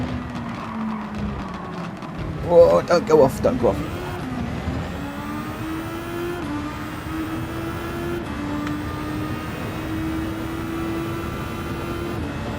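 Super Formula race car engine in Gran Turismo 7 droning steadily with a rising pitch sweep, a voice talking over it near the start.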